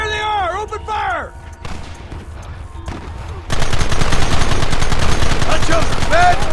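Gunfire from a Red Dead Redemption shootout: dense, loud bursts of shots crackle continuously through the second half, following game voices and music in the opening seconds.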